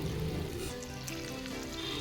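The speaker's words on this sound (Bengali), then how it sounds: "আর তেলটা গরম হলে এক করে আলুর পুর আটাগুলো তেলের মধ্যে ছেড়ে দিতে হবে।" Potato-stuffed wheat dough pieces fry in hot oil in a pan, giving a dense, steady sizzle and crackle that stays even and close throughout, with no voices.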